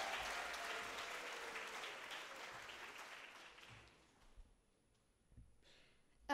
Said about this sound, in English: Can we have a second round of applause for that amazing performance?